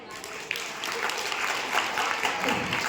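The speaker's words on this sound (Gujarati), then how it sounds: "તાળી." A short burst of applause from a small group at a school quiz, steady clapping that continues for a few seconds.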